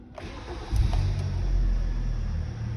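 A 2011 Kia Cerato Koup car engine with 142,000 km rumbles steadily at close range, rising slightly after a moment and then holding a low, even idle.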